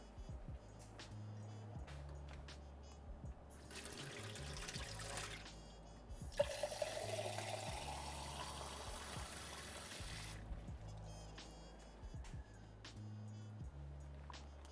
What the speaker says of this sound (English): trying to pour oil down the sink